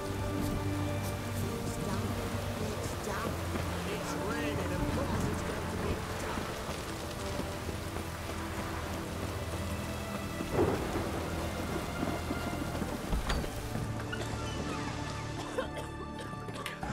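Steady heavy rain with rolling thunderstorm rumbles in The Witcher 3: Heart of Stone, a dense continuous downpour with distant thunder swelling and fading, no talk.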